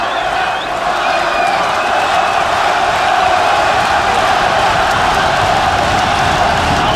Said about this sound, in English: Crowd's reaction.